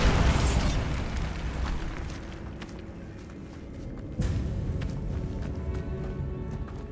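Bombarda spell explosion in the Hogwarts Legacy video game, a loud blast at the start that decays into rumbling debris, followed by a second sharp impact and lingering crackles.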